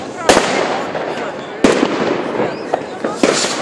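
New Year's Eve fireworks in a park in Blackeberg, Bromma, Stockholm go off as several sharp, loud bangs with crackling between them, while people talk nearby.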